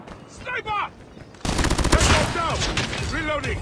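Rapid bursts of gunfire in the Call of Duty Mobile monastery map start abruptly after a quieter opening with a faint voice, then stay loud and dense with overlapping shots to the end.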